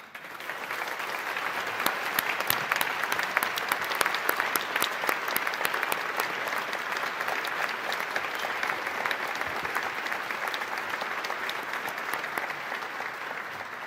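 Sustained applause from a large audience at a state of the state address, a dense steady patter of many hands clapping that holds evenly for the full length with no talk over it.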